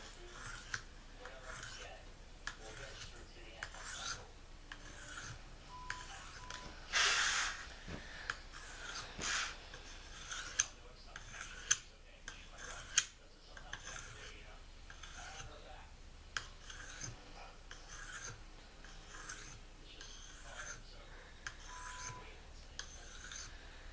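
Repeated rasping strokes of a knife blade drawn across a tri-hone sharpening stone, steady back-and-forth rhythm at close range, with faint TV noise in the background.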